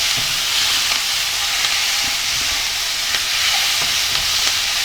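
Steady, loud sizzling of pork belly stir-frying in a hot pan, with occasional crackles and scraping over a continuous hiss.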